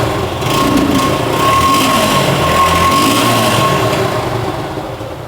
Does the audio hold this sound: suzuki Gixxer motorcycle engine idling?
yes